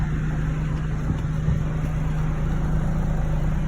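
A 2022 Mazda CX-3 AWD with dual exhaust runs at a steady idle, a continuous low engine hum that stays even and close throughout with no voices over it.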